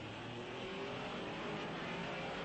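A 1961 Porsche Formula 1 race car, Jo Bonnier's, at the Spa Belgian Grand Prix, a steady high engine drone at moderate distance with a slight whine, holding even throughout.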